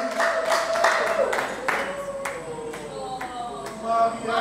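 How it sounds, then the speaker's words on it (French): An award-ceremony audience claps for an actress in scattered, uneven bursts of hand claps, moderately close, with voices murmuring underneath and the clapping swelling again at the end. "Les applaudissements nourris pour cette grande artiste"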